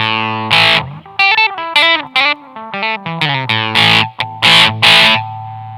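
An electric guitar runs through a Digitech Grunge distortion pedal with the gain set low, just under nine o'clock. It plays a loud, close, buzzing riff of chopped chords and single-note bends, with short gaps between phrases.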